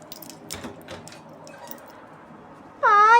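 Quiet shuffling and light handling noises, then a loud, close cat meow at the very end.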